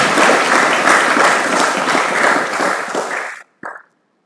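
An audience at a school science awareness camp gives a long, loud round of applause welcoming distinguished guests, dense clapping running about three and a half seconds before stopping abruptly, followed by a brief short burst.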